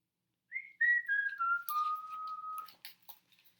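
Someone whistles a short descending phrase, the notes sliding down and then holding a long final tone, close and clear against silence.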